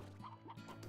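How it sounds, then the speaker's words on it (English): A chicken in the video game Slime Rancher clucks several times in quick succession, close by and fairly quiet, with a steady low hum underneath. "More chickens, gotta get to them before the slimes do."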